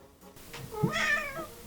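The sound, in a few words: pet cat meowing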